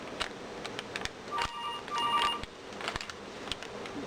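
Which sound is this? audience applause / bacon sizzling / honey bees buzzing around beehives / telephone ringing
telephone ringing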